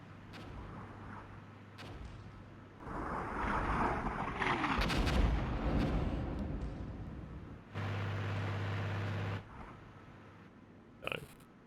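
Artillery fire in the wargame Armored Brigade rumbles as a heavy, rolling barrage that swells and fades over several seconds. A steady humming tone follows, then a brief sharp report near the end.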